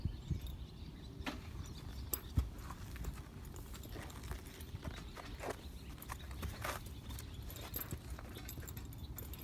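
A horse's hooves clip-clop at a steady walking rhythm during groundwork training, close and clear, with occasional sharper strikes and faint jingling.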